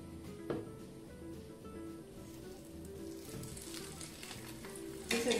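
Aloo tikki (potato patties) frying in hot oil in a pan, giving a steady close sizzle with a sharper burst near the start and another at the end as patties hit the oil or the pan is moved.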